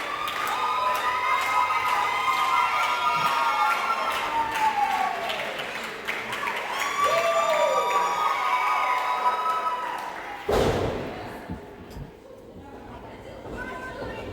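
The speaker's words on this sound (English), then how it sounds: "Reggie getting the crowd behind him, starting to clap" Wrestling crowd at a main event chattering and cheering, with scattered clapping building behind the noise; a loud burst near the end before the din settles.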